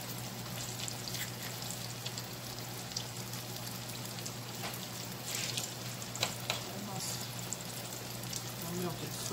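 Butter melts in a hot pan on the stove, giving a soft, steady sizzle with scattered small pops and crackles over a low hum, fairly close but gentle.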